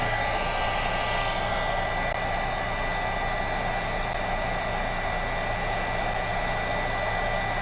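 Steady loud blowing whoosh of a heat gun melting embossing powder on a steampunk-style mixed media craft piece, continuous and close with no pauses.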